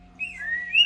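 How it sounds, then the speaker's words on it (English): A person whistles a short, wavering tone in a quiet room, close and moderately loud, with a faint steady hum underneath. "Some people whistle."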